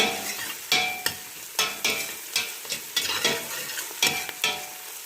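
Garlic and ginger stirred and scraped in a hot pan, with repeated sharp spatula scrapes every half second over steady frying sizzle.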